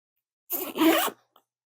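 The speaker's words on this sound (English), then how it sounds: "And close up your zipper." Zipper pulled closed on a sewn bag, two quick close zipping strokes totaling under a second, followed by a faint click.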